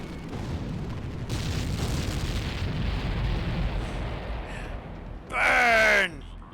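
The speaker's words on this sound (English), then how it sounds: "The fuel truck's been hit. The surrounding vehicles were caught in the explosion." A fuel truck blows up in the video game Ace Combat X, a heavy rumbling blast that roils for several seconds, then a sharp crackling burst near the end, with voices talking over it.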